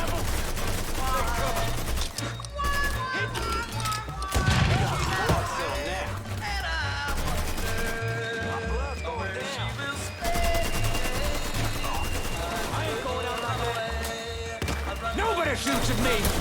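Sustained firefight in Mafia 3 during the rescue of Alvarez, with bursts of automatic fire and scattered gunshots over a steady music bed, heavy and continuous while a voice shouts over it.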